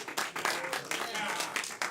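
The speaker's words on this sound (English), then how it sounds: "clap for Adam" Audience at an improv comedy show clapping for a performer, a brief burst of dense applause lasting about two seconds with talk over it.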